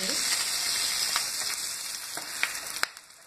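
Mustard seeds, curry leaves, red chillies, asafoetida, turmeric and chilli powder fry in oil for sambhar, a loud, steady sizzle with a few sharp pops and crackles toward the end.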